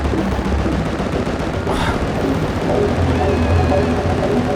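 Dense, continuous bursts of GTA 5 gunfire crackle on without pause, with a faint voice underneath, sounding like an intense firefight.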